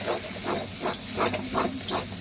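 Semolina is stirred in a hot karai, making a loud, close, rhythmic scraping hiss that swells and fades with each of about five quick strokes.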